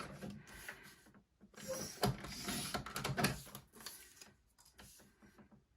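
Trimming a patterned variety mat down to 5.5 by 4 inches for a photo mat, heard as a few close, irregular cutting and paper-handling sounds with quiet gaps between them.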